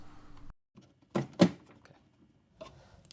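The door lock actuator of a Mercedes S-Class, just repaired along with its soft-close mechanism, fires two sharp mechanical clunks close together, then a fainter clunk after a quiet pause.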